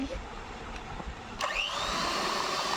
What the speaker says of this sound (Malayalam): ഇനി ബീസ് വാക്സും കൂടെ ചേർത്ത് നമ്മൾ വിപ്പിംഗ് സ്റ്റാർട്ട് ചെയ്യുവാണ്